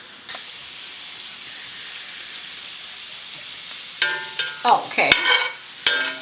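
Large shrimp sizzle in garlic-infused butter in a pan, a steady frying hiss that flares into louder crackling spatters and stirring clatter in the last seconds, with one short word spoken.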